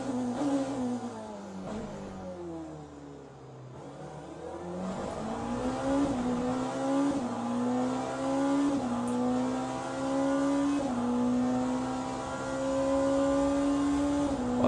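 A race car in the Le Mans Ultimate sim racing game revs hard and shifts up twice in quick succession, its engine pitch dropping at each shift and then climbing again as it accelerates, loud and continuous.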